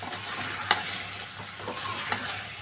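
Boiled taro with chilli powder, salt and turmeric being stirred in a pan over heat, a continuous soft sizzle with a few scraping strokes of a spatula.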